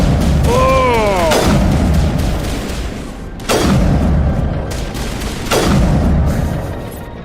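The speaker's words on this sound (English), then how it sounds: "This is the best sniper rifle in the game. And you saw how many shots that took." Three loud, sharp sniper rifle shots in the video game Mass Effect 1 Legendary Edition, evenly spaced about two seconds apart, each with a booming tail, and a brief electronic whine near the start.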